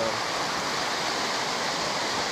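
Rushing whitewater of rapids on the Upper Salt River, a steady, loud, full-range roar with no breaks, close by and without voices.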